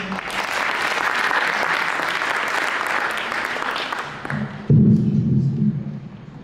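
Audience applause after an introduction at an interfaith art performance, a steady wash of clapping that fills most of the clip before a low sustained tone rises as it fades.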